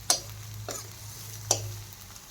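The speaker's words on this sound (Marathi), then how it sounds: "आता मी छान परतून घेणार आहे" Capsicum sautéing in a pan, a faint low sizzle broken by three sharp clinks of a spatula stirring against the pan.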